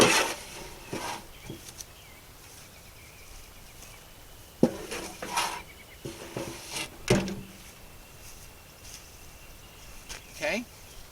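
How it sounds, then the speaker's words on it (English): Sod and soil are scooped back onto a garden bed, heard as a few scattered scraping, thudding scoops close by over outdoor quiet, with insects or birds faintly in the background. "I'm going to put all this sod back on top. couple more scoops."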